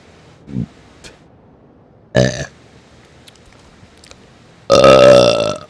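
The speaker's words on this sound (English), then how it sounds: "I do apologize for burping so hard" Loud, close burps from a gamer: a short low belch, then a stronger one, and finally a long, deep, booming burp, with quiet pauses between them.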